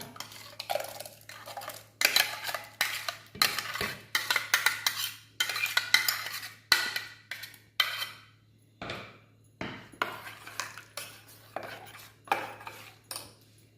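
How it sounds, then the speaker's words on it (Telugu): Watermelon pieces being mixed with paste in a bowl: a close run of scraping, clinking stirs that come in quick bursts with short pauses between them, moderately loud and with no voices. "ఈ ముక్కల్ని కూడా మిక్స్ చేసుకుందాము"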